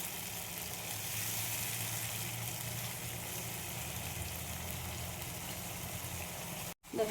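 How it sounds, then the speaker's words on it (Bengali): Spice paste of onion, ginger, garlic, garam masala, cumin and turmeric fries in a pan with a steady, soft sizzle that continues evenly before cutting off abruptly at the end. "এবার একটু মশলাটা আমি কষিয়ে নিই।"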